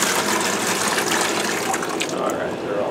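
Water with fish pours through a net into an aquarium tank, a dense continuous splashing gush that stays loud and close for the whole stretch before easing slightly at the end.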